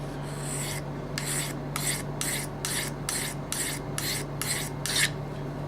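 Pocket knife blade stroked across a diamond whetstone, about ten evenly spaced scraping rasps, close and clear over a steady low hum.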